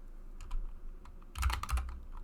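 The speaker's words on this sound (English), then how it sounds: "type in play demo" A short flurry of keystrokes on a computer keyboard entering a console command, close and crisp, with a cluster of quick taps near the end.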